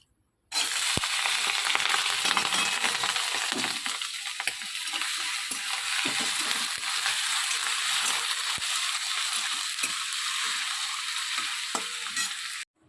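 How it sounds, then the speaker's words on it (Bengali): Cut potatoes fry in a pan with a loud, dense, continuous sizzle that starts abruptly and runs on steadily, with occasional crackles and no talking. "এই যে আলু কেটে এখানে রেখে দিয়েছিলাম এখন ছপা ছপ ভাজবো"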